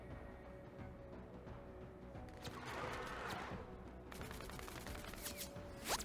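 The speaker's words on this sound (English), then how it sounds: "Do you not hear the screaming and gunfire?" In the war video game Menace, faint gunfire crackles in bursts with a distant wash of noise, sharp single shots punctuating the end against a steady low background hum.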